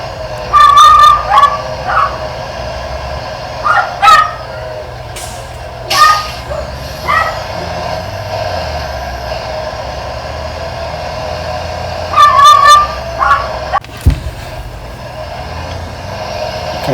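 On a farm during a soybean harvest, a dog lets out repeated shrill, high-pitched screams in short bursts spread across the stretch, standing out loudly over a low background rumble of machinery.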